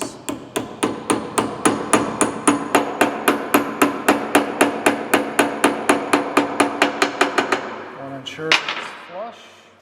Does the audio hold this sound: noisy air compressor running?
no